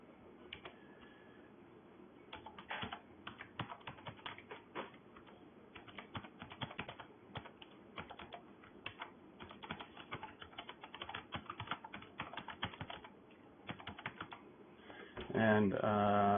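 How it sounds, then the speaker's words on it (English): Quick, uneven clicks of typing on a computer keyboard, entering text into an edit box in time-lapse camera software, close and fairly quiet, ending in a short louder noise. "I'll type it into the edit box in IPTimelapse"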